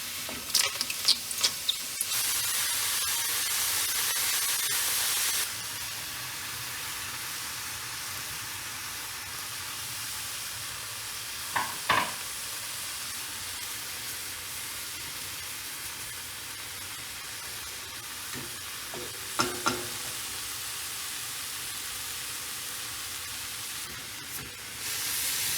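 Mushrooms saute in a hot pan, the first ingredient of a squid ink mushroom pasta cooked at home in New York City. A steady sizzle runs throughout, broken by a few brief, sharp squeaks and clicks.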